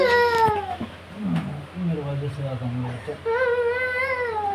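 A small boy cries and wails because he wants a cat, his sobbing rising and falling in loud, drawn-out bursts close by, with a short pause midway before the crying resumes.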